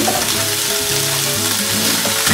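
Liver and garlic chives fry in a pan with a loud, steady sizzle and crackle throughout, no voices.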